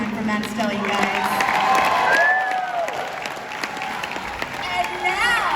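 At a live country music concert, a crowd claps and cheers steadily with scattered whoops and shouts, sustained throughout, while voices carry underneath.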